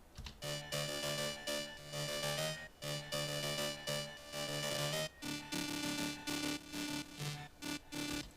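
A distorted Serum Angry Organs synth sample plays as a dense, gritty lead in repeated rhythmic bursts with short gaps, loud and filling the whole mix throughout.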